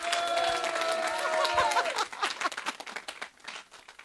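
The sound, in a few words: audience applauding a guitarist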